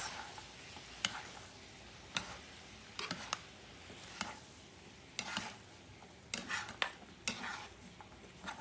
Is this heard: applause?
no